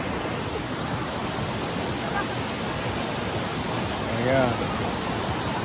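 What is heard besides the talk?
Tinuy-an Falls waterfall, Surigao del Sur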